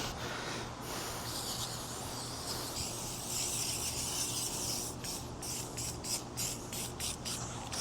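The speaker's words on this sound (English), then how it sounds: "I'm just gonna go ahead and dry it off a little bit and spray it down" A steady hiss of WD-40 lubricant aerosol spray onto engine cylinders, then several short, separate spray bursts in a row, close by.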